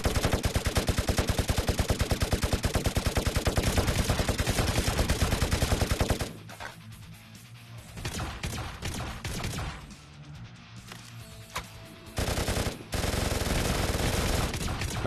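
Rapid sustained bursts of light machine gun fire in a VRChat zombie survival game, loud and continuous for about six seconds, then scattered shots and game noise before the heavy automatic fire resumes.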